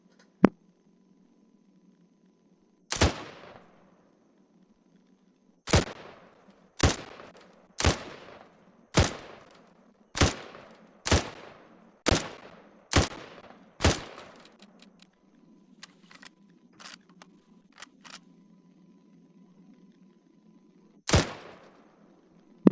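A Barrett M82 .50 caliber (12.7mm) rifle in Arma 3 fires about eleven loud, booming shots, one alone, then a steady run of evenly spaced rounds, with a final shot after a quiet pause and light mechanical handling between.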